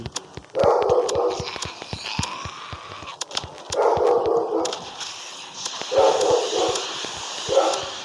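A dog barks in repeated bursts beside a house at night, loud and close, with sharp clicks and tapping scattered throughout and quiet gaps between the barking spells.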